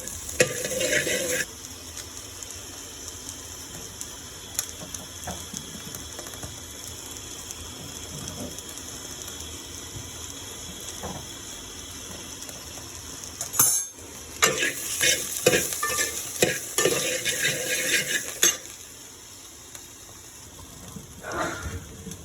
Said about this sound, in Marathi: ओला नारळ जो असतो ना, ओला नारळ ते मी भाजून घेणार आहे